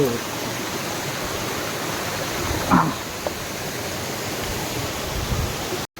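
Steady, broad rushing of a large volume of fast-flowing water, a continuous near roar with a faint brief knock partway through.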